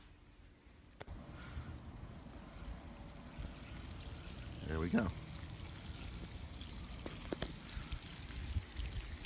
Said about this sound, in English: when I turn this on again, the water starts flowing